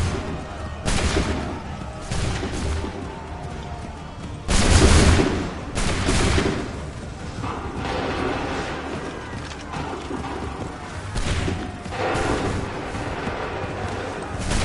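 Musket volleys in Assassin's Creed 3, with several loud, booming bursts of massed gunfire at irregular intervals over a rumbling battlefield background.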